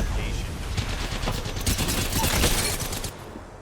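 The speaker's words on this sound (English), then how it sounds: "Quick shots from PBG to take down EPE" Apex Legends gunfire in a competitive tournament match, with rapid bursts of shots and fusillades that build to a dense volley before easing off, heard under a caster's commentary.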